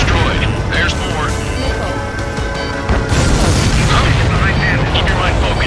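Explosion of a destroyed enemy transport in the combat flight game Ace Combat 7: Skies Unknown, a loud sustained blast and rumble over constant jet noise, with radio voices talking across it.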